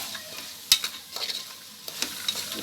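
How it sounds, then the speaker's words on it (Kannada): Dal and onion fry in hot oil while a spoon scrapes and stirs the pan, giving soft sizzling with sharp clinks and scraping strokes at intervals. "ಈರುಳ್ಳಿನ ಹಾಕ್ಕೊಂಡು ನಾವು ಫ್ರೈ ಮಾಡಬೇಕು ಕಾಳು ಜೊತೆಯಲ್ಲಿ."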